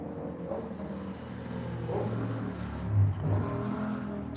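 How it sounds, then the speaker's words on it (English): Car engines revving outside a window, a low muffled rumble that swells and falls, with a stronger rev near the end, distant and steady throughout. "We got some people revving behind outside the window"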